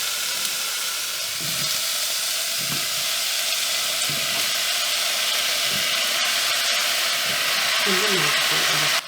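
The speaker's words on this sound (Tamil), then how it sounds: "வெங்காயம் வதங்கிட்டு தக்காளி போட்டுக்கணும்" Tomatoes frying with sautéed onions in a pan, cooking for a simple tomato kulambu, give a steady loud sizzle and hiss throughout, with a few low stirring knocks and occasional talk over it.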